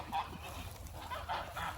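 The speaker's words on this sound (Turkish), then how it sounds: "Mast kazları ve büyük gri kazlar bunlar bizim" Embden geese and large grey geese honk in short, scattered calls at moderate distance, quiet against the open outdoor background.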